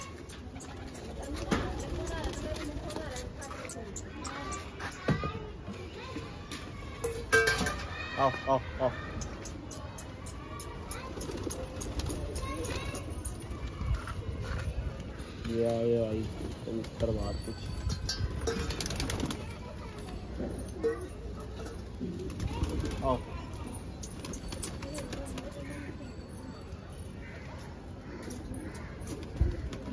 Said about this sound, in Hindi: अभी सारे कबूतर बाहर आए हैं।